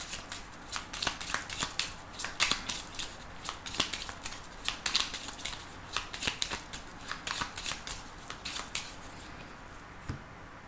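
A 32-card deck is shuffled by hand, close and crisp, with repeated riffling bursts and light card slaps in an uneven rhythm, ending with a cut.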